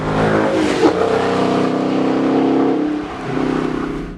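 A 6.4-liter V8 engine of a Dodge Challenger 392 Scat Pack roars up close, its deep rumble climbing and surging through a rev before settling and rising again.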